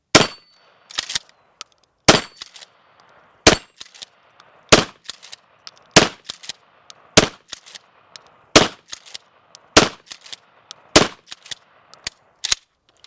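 Twelve-gauge shotgun with its pistol grip fired one-handed, eleven loud sharp blasts spaced roughly a second apart, each followed by a brief rattle and a faint echo, no talking.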